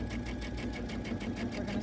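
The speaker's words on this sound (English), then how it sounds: "Okay, so we're sewing straight." A sewing machine stitching a straight line in the ditch of a quilt seam, its needle running in a fast, even, close-up rhythmic clatter with a steady motor hum, no voices.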